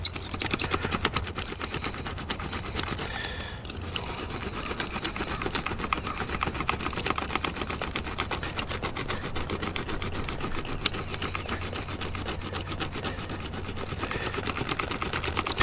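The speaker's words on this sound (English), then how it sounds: "Now we're going to have the old classic patch stitcher, they call it." A patch stitcher tool rolled over a tire patch on a pressure washer wheel, producing a rapid, continuous clicking ratchet-like rattle, steady and close for the whole stretch with no talk.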